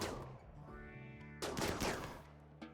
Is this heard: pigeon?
no